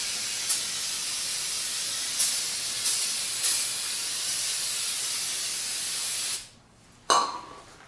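Cleaner sprayed onto Ford F-150 lower ball joint parts during a 2004-2014 truck's ball joint replacement: a steady, loud hiss runs for about six seconds with a few small bursts, stops, then a short final spurt.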